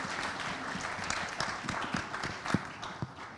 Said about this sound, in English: Round of applause for Cedric, please.